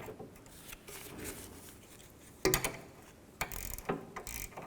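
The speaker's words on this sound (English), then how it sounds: "Take an 18mm ratchet wrench and you can tighten up the nut." An 18mm ratchet wrench tightens a rear sway bar link nut on a 2011-15 Kia Sorento, giving close, sharp bursts of ratcheting clicks after a quieter stretch of workshop background.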